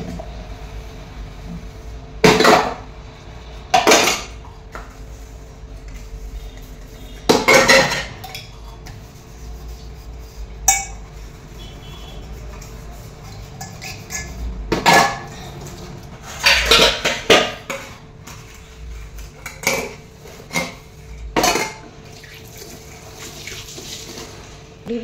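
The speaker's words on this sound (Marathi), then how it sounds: "भांडी घासलेले आहेत." Pots, pans and dishes washed by hand at a home sink, with running water, scrubbing and scattered loud clanks and knocks of metal utensils at irregular intervals, no talk.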